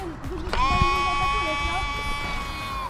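A sheep bleats once, close by, in a long, steady, wavering cry that lasts a couple of seconds, with a little background noise and no talk over it.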